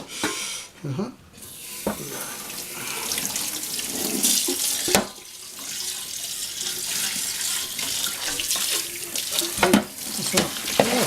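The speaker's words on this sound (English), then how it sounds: "If you rinse with hot water, then it dries quicker." A kitchen tap runs steadily into a sink while dishes from a vegetable curry and roti meal are washed up, a loud, continuous rush of water close by with occasional clinks, and a voice talks over it.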